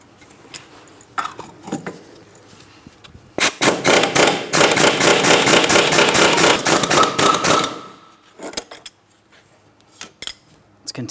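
Metal hammer blows tapping a front wheel bearing and hub out of a 2003-2007 Cadillac CTS, a dense run of sharp ringing strikes for about four seconds, preceded and followed by a few scattered taps, close and loud.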